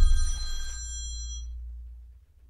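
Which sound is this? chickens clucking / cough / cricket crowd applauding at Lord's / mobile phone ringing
mobile phone ringing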